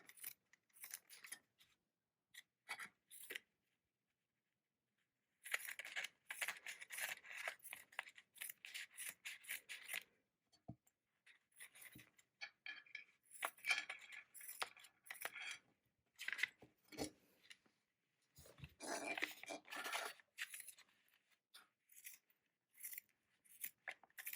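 Repeated snips of dull scissors working through paper, a little rough and chewy, in short bursts with pauses between them, close by.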